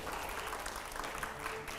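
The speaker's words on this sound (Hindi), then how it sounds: "अच्छा जोरदार तालियां हो" An audience bursts into sustained applause, a dense, steady wash of clapping that fills the room at a moderate distance for the whole stretch.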